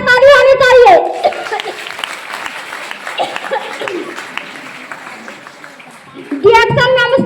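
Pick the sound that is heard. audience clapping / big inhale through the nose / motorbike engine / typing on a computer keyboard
audience clapping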